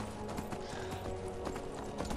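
Horse hooves clip-clopping at a steady trot in the fantasy video game Skyrim, with a brief whinny, over a constant layer of game ambience and no talk.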